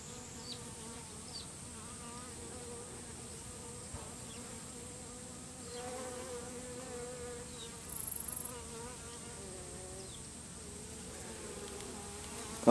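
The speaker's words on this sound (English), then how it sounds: "I'm tempted to shake these bees off" A dense, steady hum of many bees at a hive during a queen merge and colony split, close and continuous throughout with occasional louder passes of individual insects.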